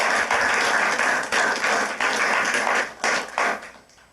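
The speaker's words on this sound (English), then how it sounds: "How about one more round of applause for Dan tonight?" Audience applause fills a lecture hall at a evening nature program on pesticides, a dense steady clatter of many hands with small swells, tapering off toward the end.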